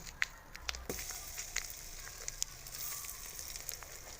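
Green curry paste sizzles in a little oil inside a multicooker, a soft steady hiss with scattered crackles and pops, faint and without talk.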